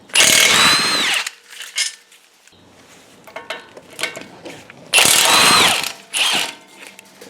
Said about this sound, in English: Now we're going to take the caliper bracket off. There's two bolts over here.